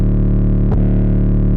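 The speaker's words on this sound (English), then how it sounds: "take this drive knob and turn it up to add some, distortion" A sustained, buzzy tone with Decapitator drive distortion added, heard as the wet signal in FL Studio. Thick harmonics ring steadily and loudly throughout, broken by one short swoop near the middle.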